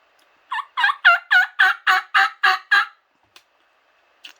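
A diaphragm call imitates a wild turkey gobble: a rapid, loud run of about nine throaty rattling notes, then silence broken by a couple of faint clicks.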